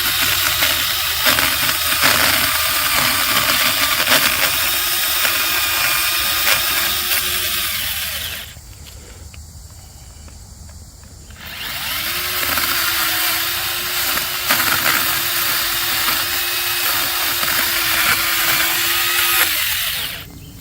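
A chainsaw cuts down a sapling, the engine droning loud and close at a steady pitch, dropping to a brief lull before revving back up and cutting again.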